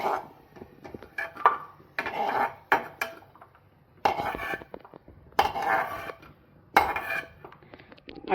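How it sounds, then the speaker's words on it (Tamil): Roasted ingredients for semiya kesari are scooped from a pan onto a plate, producing repeated clattering metal scrapes and clinks in bursts separated by short pauses, with no speech. "பொரிஞ்சு வந்ததை ஒரு தட்டில் எடுத்து வச்சுக்கிடணும்."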